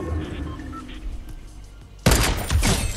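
Gunfire erupts abruptly in Fortnite, a loud burst of shots partway through after a stretch of quieter in-game ambience, continuing densely to the end.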